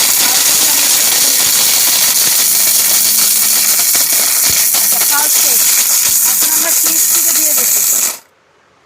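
An ORPAT 1600/2000-watt blender runs loud and continuous at close range for about eight seconds, a steady whirring roar that cuts off sharply at the end.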